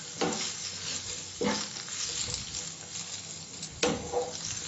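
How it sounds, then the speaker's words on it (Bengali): Green chilli, capsicum, cabbage and carrot for veg hakka noodles fry in a pan, a continuous soft sizzle broken by a few sharper scraping stirs at a steady, unhurried pace, close by and without talk. "এটাকে আমি 2 থেকে 1 মিনিট ফ্রাই করব।"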